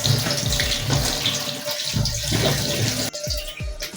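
Tap water runs into a sink as peeled, halved potatoes for chicken biryani are washed, a close steady splashing stream broken by knocks and clatters of the potatoes.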